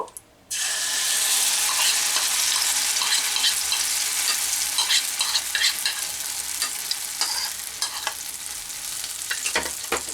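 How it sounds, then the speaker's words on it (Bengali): A lentil mixture is fried in ghee in a kadai while being stirred for dhokar dalna. Constant loud sizzling starts abruptly after a brief silence, with repeated close scraping and clacking of the spoon against the pan throughout. "খুব ভালো করে নাড়তে হবে।"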